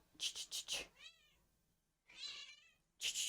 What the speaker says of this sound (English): I am so sorry for the cat meowing.